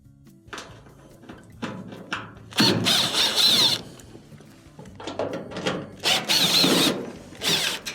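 Power drill backing Phillips screws out of the top panel of a clothes dryer, several short whirring bursts in close succession with clicks and metallic handling between them.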